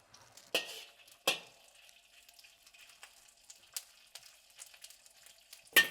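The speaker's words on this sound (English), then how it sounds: "Add our oil. The first thing you want to do is put the shrimp in." Shrimp hitting hot oil in a wok, with sharp bursts of sizzle at the start and the end and a steady low crackle in between; no one speaks.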